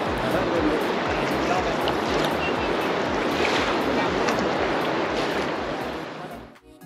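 Clear Ganges river water rushes steadily at Shivpuri near Rishikesh, a dense, loud, continuous roar of flowing water that holds unbroken and then fades away at the end.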